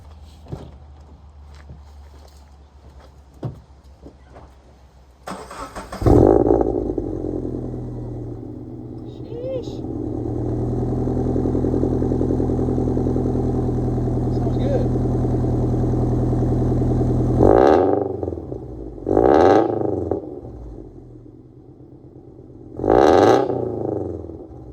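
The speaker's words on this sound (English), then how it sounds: "Now it's time for a cold start." A car with a new AWE Touring aftermarket exhaust fires on a cold start, roaring sharply, then settling into a loud, steady high idle, with three short revs near the end.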